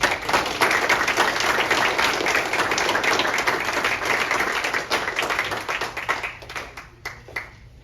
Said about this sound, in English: let's give a round of applause for all of our public works